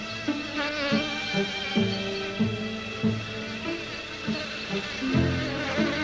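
Bees buzz in a continuous, close, droning hum that rises and falls with the insects' movement, alone and unbroken for several seconds.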